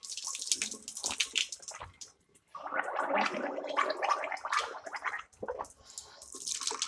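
Water runs steadily from a tap during wudu ablution washing, splashing and gurgling close by, with a short pause before the stream resumes and continues loudly.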